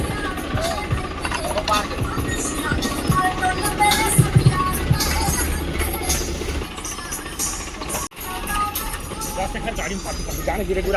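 A heavy tractor engine runs with a rough, rattling drone close by, steady throughout with a brief dip, while voices chatter faintly underneath.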